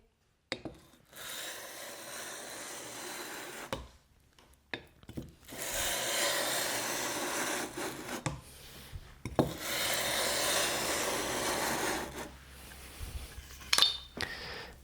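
A hand plane's metal sole is scraped back and forth across an abrasive surface to flatten it, giving long gritty rubbing strokes separated by pauses and small clicks, close and fairly loud.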